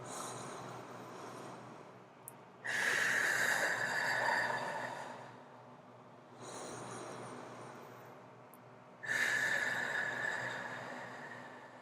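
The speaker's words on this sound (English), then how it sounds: "let's take a couple of breaths" Two slow, deep breaths during a guided chakra-clearing energy healing routine, each a long airy inhale and a drawn-out exhale, close and soft with quiet pauses between.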